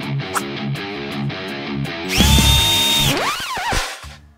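A power drill drives screws into brackets aboard a narrowboat, its motor whining in a steady high pitch for about a second, then revving up and down in short bursts, close and loud.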